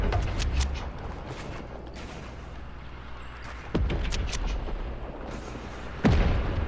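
Gunfire in the video game Fortnite: scattered shots and booming blasts ring out over steady background noise, with sharp loud impacts standing out near the middle and again toward the end.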